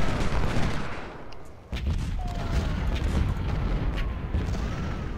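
Massed Civil War musket volleys in a battle from Ultimate General: Civil War, a loud dense crackle of gunfire with a sharp burst near the two-second mark followed by sustained rolling fire, no speech.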